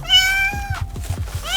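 Kittens in a makeshift fort meow close by, a long drawn-out cry followed by a quick run of short thumps or pawing sounds and the start of another meow.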